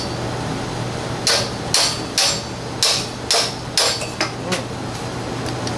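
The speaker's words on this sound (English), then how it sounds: "It's all up to the hammer now." A hammer strikes metal parts while a VW 1600 engine is being taken apart: about nine sharp, ringing blows in an uneven rhythm, close and loud, over a steady background hum.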